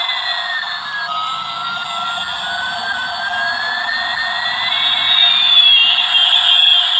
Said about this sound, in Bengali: এইটা হেলিকপ্টারের মতো আওয়াজ বেরোয় এইখানে স্পিকার লাগানো আছে এইখানে আওয়াজ বেরোয়